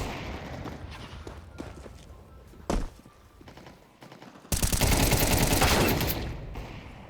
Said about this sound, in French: Je te tire dessus, meurs.